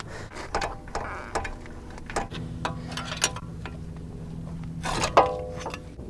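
Metallic clinks, ticks and taps of a brake caliper being worked off a Mercedes-Benz C300 W204 during a brake pad job, scattered light knocks close by with a louder clank near the end.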